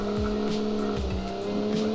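Tires squeal in a handbrake 180 turn by a 1946-style car in a driving video game. A loud engine drone holds steady while the skid screech rises and falls across the turn, with no one talking.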